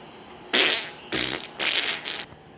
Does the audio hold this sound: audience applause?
no